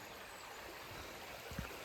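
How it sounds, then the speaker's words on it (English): Water of Lick Creek flowing at a washed-out bridge crossing, a faint, steady rushing hiss heard from a little distance, with a brief low thump near the end. "we've arrived at Lick Creek."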